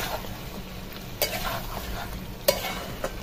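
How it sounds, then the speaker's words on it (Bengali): Chicken with spices is stir-fried in a pan over a clay stove, a soft, steady sizzle broken by a few sharp scrapes and clinks of the spatula, with no talking. "তো আমি দেখো মশলা দিয়ে এখন মাংসটা কষিয়ে নিচ্ছি"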